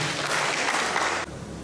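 Audience applause greeting a speaker at the opening of an intensive early-childhood teacher workshop in Rote Ndao; a short, dense burst of clapping that cuts off abruptly after about a second.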